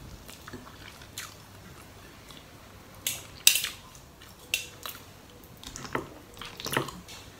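Eating a home meal of rice with eggplant soup and boiled egg, with soft wet chewing and squishy mouth sounds plus a few sharper clicks and utensil taps, close up and quiet, no talking.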